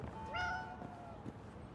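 A cat in the Indiana Jones video game gives a single short, clear meow, quiet and rising then falling, over a faint ambient background.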